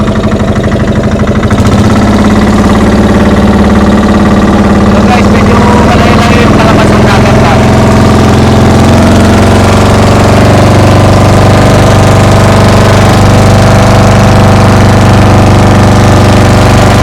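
A single-engine boat drones steadily and loudly throughout, a constant low mechanical rumble, while someone talks over it.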